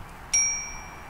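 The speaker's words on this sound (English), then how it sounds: "Is that a bell? It's a bell." A single bright metallic ding struck once in the Syberia video game, ringing clearly and decaying slowly over a quiet background, with no voices.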